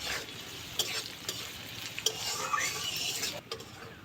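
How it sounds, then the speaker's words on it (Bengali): Chopped onion fries in hot oil with cumin seeds while a spatula stirs it, producing a close, hissing sizzle broken by a few sharp scraping strokes against the pan. "পেঁয়াজ কুচিটাও ভেজে নেব।"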